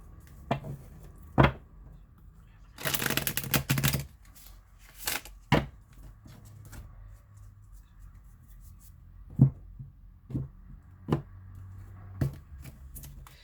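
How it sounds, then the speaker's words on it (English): Tarot cards are shuffled in a brief riffle burst, followed by scattered taps and soft clicks of handling, close and quiet. "One more shuffle."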